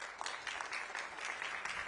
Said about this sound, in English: let's give Zoisa another round of applause.